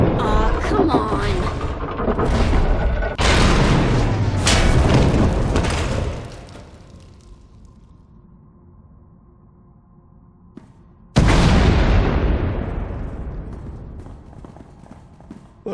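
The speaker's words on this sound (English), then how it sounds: "We heard explosions." Explosions in a Star Wars: The Old Republic cutscene from Knights of the Eternal Throne: a run of heavy, close booms and crashes, then a quieter stretch, then one sudden loud blast that decays slowly.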